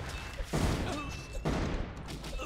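Missiles fire in the tower-defense game Kingdom Rush Frontiers, with two sharp launch blasts followed by rumbling bursts in a busy game mix.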